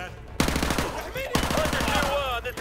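Rapid automatic gunfire in Call of Duty: Modern Warfare 2 Remastered, a fast rhythmic burst of shots after a brief quiet opening, then a second sustained volley, loud and close, with faint voices mixed underneath.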